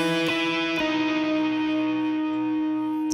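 Electric guitar picking the intro notes of a song, two sharp plucked attacks near the start ringing out into a long sustained chord with an effects-laden, reverberant tail, played alone.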